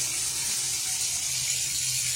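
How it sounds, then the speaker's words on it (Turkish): Tap water runs steadily after a leak repair on a bathroom supply line, a continuous hissing flow that stays close and even throughout with no voices. "Şu an suyumuzu da veriyoruz."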